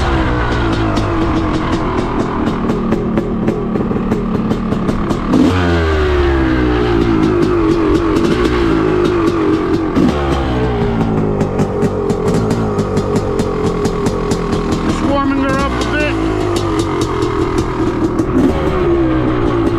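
Loud, close Honda CR 500R two-stroke motorcycle engine idling and revving as it warms up, with continuous crackling exhaust and several rising throttle blips, no talk.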